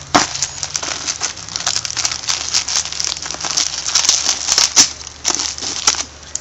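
Hard drive packaging is cut open with crinkling, crackling plastic and cardboard sounds, a busy run of close, irregular snaps and rustles with no talking.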